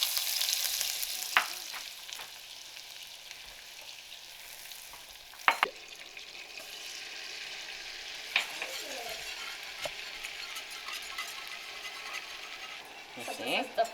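Butter and flour sizzle and fry in a pan as a roux for poutine gravy, with a steady frying hiss, occasional scraping and clinking of a utensil, and faint background movement.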